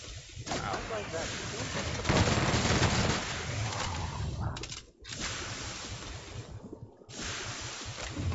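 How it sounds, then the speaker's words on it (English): Heavy machine gun fire in The Outer Worlds, a dense continuous roar of gunfire that fills the scene, briefly broken, with a voice talking over it. "Heavy machine gun."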